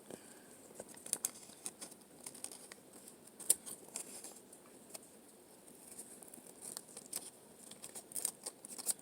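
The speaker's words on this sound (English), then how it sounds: "I'm going to cut this out, following the little curved lines I made" Scissors snipping out a curved shape from paper for a craft puppet, a quiet, close series of irregular crisp cuts and rustles.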